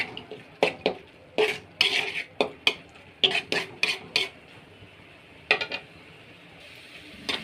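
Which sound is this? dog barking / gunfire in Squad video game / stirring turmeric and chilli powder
stirring turmeric and chilli powder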